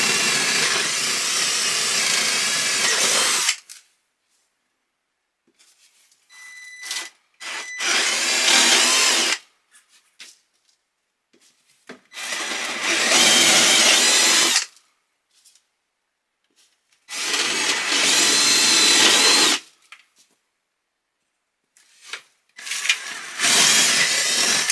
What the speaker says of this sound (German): Die Löcher zum Bohren habe ich jetzt hier mit dem 9er, 8er, 9er Bohrer gemacht.